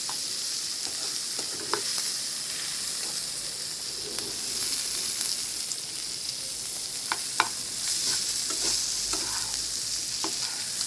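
An egg frying in a pan for vegetable noodles gives a steady, close sizzle with a broad hiss, broken by scattered stirring clicks and small pops across the whole stretch, with no voices.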